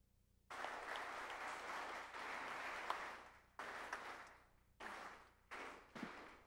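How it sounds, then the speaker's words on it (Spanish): Audience applause after a speech by the president of a Dominican journalists' association, a sustained wash of clapping that breaks into several shorter bursts toward the end, moderately distant. "Con este aplauso agradecemos las palabras de la señora Mercedes Castillo"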